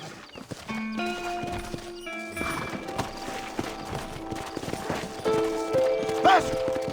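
Horse hooves clip-clop at a steady trot in the Red Dead Redemption video game, with a brief whinny, moderately loud under a man's speech and game music.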